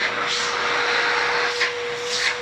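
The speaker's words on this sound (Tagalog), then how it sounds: "Ito po yung vacuum." A powerful vacuum cleaner runs in suction mode during a shop test, producing a steady, loud whooshing roar with a constant whining tone and slight surges in airflow.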